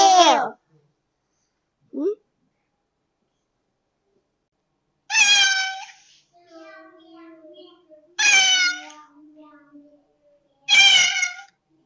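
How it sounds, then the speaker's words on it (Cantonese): A cat gives four loud, close meows spaced a few seconds apart, with a brief faint squeak and soft tonal sounds in the gaps. "貓在叫"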